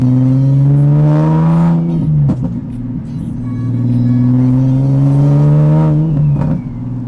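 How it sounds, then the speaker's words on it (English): A turbocharged Toyota Supra accelerates hard, its engine drone rising through the gears in two long pulls, each broken by a brief shift, loud and close from inside the car. "I love you can always hear the turbos no matter what you do"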